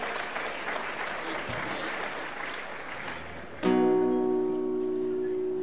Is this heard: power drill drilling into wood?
no